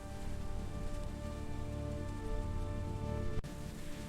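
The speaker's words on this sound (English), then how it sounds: "This rain is relentless." Heavy rain pours relentlessly onto a makeshift roof shelter beside a river, a dense, constant patter at low level with a single sharp tap near the end and no speech.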